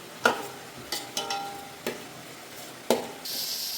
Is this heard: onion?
yes